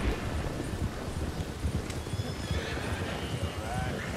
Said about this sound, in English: Now, horses are going cross country here.